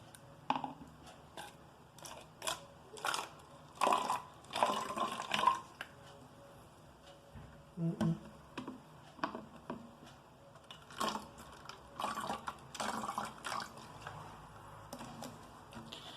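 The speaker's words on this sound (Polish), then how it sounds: "nalewamy do butelki 1 czwartą jej wielkości octu" Vinegar glugging and splashing in short irregular bursts as it pours into a bottle, fairly close and quiet, with pauses between pours.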